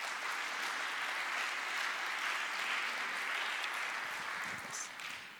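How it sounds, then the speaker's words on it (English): An audience at a media talk on BuzzFeed claps steadily after the speaker finishes, a soft, even wash of applause heard at a distance, tapering slightly near the end. "You had to clap"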